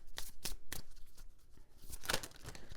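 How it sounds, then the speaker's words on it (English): Oracle cards are shuffled by hand in quick, crisp riffling bursts, several separate flicks and snaps close to the listener, recorded in a quiet room. "these cards are so hard to shuffle"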